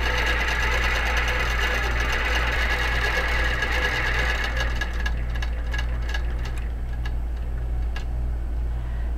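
A QBOT longarm quilting machine stitches a quilt with a fast, steady mechanical whir and needle patter, a constant hum running under it and sharper ticks emerging in the second half.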